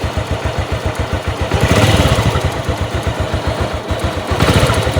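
A Honda XRM 125 motorcycle converted to manual clutch runs loud and close with a rapid, rhythmic clattering tick, swelling briefly as it is revved twice.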